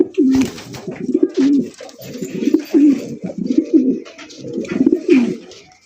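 A pair of racer pigeons coo close by in repeated throaty, rolling phrases, one burst after another, with faint background noise between the calls.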